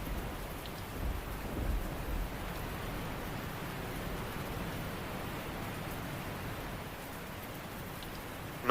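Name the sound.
heavy rain with thunder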